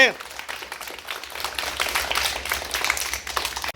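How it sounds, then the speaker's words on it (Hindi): Children clap at a school event for National Unity Day in India, scattered quick claps building into louder, denser applause, with an adult voice speaking over the start. "बहुत अच्छे, ताली बजाओ जोर से।"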